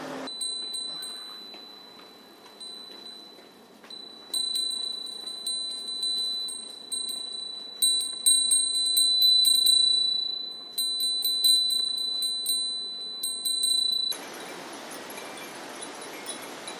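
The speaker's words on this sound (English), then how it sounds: "Japanese wind chimes are called furin." Japanese furin wind chimes ring on a summery day in Kyoto, their bright, high tinkling coming in irregular clusters of strikes for most of the stretch, fairly close and clear, before a softer rustle takes over at the end.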